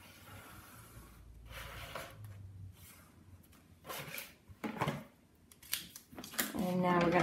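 Scissors cut through a cardboard box along drawn lines, giving several crisp snipping and crunching bursts with short pauses between them, close by and fairly loud, with faint breathing and handling noise around them.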